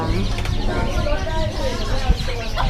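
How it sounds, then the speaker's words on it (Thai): Thai bantam chickens cluck and chatter nearby at an outdoor poultry market, a busy layer of overlapping bird calls with a brief thump, while people talk over them. "อันนี้เป็นไก่แจ้เหมือนกัน"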